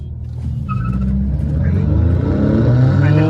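Skoda Laura and Mercedes A200 accelerating side by side in a drag race, engines roaring louder as they rise steadily through the revs together, heard close and continuously, with a short voice over the start.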